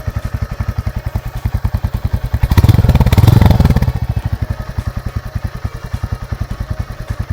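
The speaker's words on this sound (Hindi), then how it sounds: "अभी आपको एग्जॉस्ट नोट सुनाएंगे, लेट अस सी।" Royal Enfield Hunter 350 with a single-cylinder air-cooled engine, a loud close exhaust note thumping rhythmically at idle, briefly revved to a rising roar in the middle before settling back to the steady idle beat.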